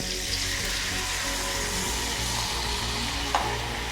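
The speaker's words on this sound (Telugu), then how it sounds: "దీనిలో మజ్జిగ వేస్తున్నాను." Buttermilk poured into a hot tempering pan, giving a steady, dense sizzle that runs the whole time, with a brief louder splash near the end.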